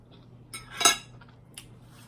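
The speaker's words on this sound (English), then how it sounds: "If my fork is scraping" A metal fork scrapes and clinks against a plate during a meal of bacon cheeseburger casserole, one brief bright scrape in the middle with fainter clinks around it, close and quiet.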